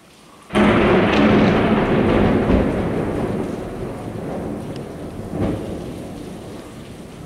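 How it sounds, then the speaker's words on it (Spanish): A thunderstorm in Veracruz starts with a sudden loud crack of thunder that rolls and fades over heavy, steady rain, with a second faint rumble later on. "Está lloviendo."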